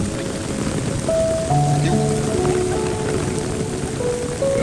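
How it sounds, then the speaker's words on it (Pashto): Heavy rain pours outdoors in a village during a flood, a steady dense hiss of drops on surfaces with faint tonal background sounds, loud and continuous throughout. "تاسو ته ښکاري ډېر زیات تیز باران ورېږي"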